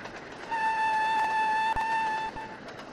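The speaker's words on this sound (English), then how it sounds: "It's a good whistle." A steam train whistle in Trainz: A New Era on the Settle and Carlisle route blows one steady, shrill tone for about two seconds, fairly loud, then cuts off.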